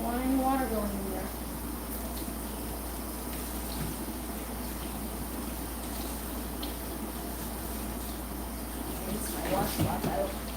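Water runs and splashes steadily while rinsing a dog's head during live grooming, a continuous wash-like flow throughout with talk over it.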